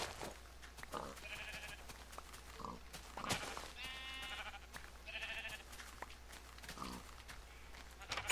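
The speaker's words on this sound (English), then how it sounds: "I have 5 sheep in here." Minecraft sheep bleat a few times in short wavering cries, fairly quiet and spaced apart over a low steady hum.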